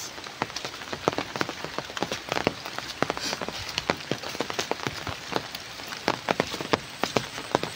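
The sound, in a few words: rain falling in Quezon Province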